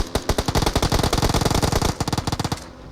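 PUBG Mobile gunfire: loud, rapid automatic bursts of dozens of closely spaced shots in a steady stuttering rhythm, stopping abruptly near the end.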